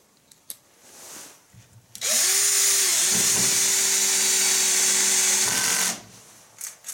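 An AEG BS14 G3 cordless lithium drill-driver driving a screw into wood, a loud motor whine that steps down in pitch as the screw bites, running about four seconds between quiet handling noises.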